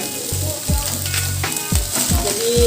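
Oil sizzling in a pan while frying Indomie instant noodles into spicy fried noodles, with steady loud crackling and several stirring or scraping bursts, no talk.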